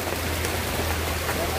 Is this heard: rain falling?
yes